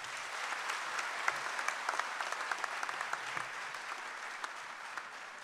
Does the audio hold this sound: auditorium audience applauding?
yes